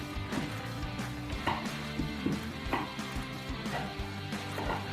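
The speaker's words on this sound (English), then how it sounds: "And just slice." A knife slicing through food on a cutting board, with a series of separate soft cuts at an uneven pace, close by and fairly quiet.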